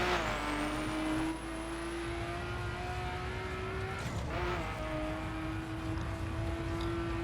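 Car engine in The Crew racing video game, revving high and accelerating steadily with a rising whine, a brief gear-change dip, then climbing again, loud and continuous with faint tire noise.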